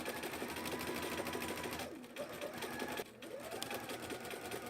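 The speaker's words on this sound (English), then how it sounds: "I'm gonna keep sewing down this row, just like I did the first one." A sewing machine stitches a continuous row of quilt blocks in a steady, close-up whir, pausing briefly twice before running on at an even pace.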